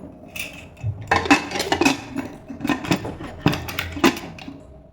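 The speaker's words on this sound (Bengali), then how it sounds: "ঢাকনা দিয়ে ঢেকে দেব।" A metal lid clatters onto a cooking pot of mutton biryani, with a run of clinks and knocks of metal on metal close by.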